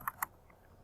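Two quick, crisp keystrokes on a computer keyboard, close and fairly quiet, followed by near silence.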